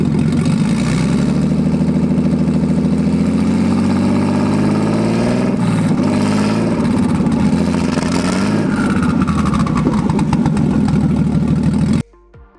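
A big-turbo Nissan RB engine idles steadily and close by, a continuous mid-range drone with a slight rise and wobble partway through, then cuts off abruptly near the end.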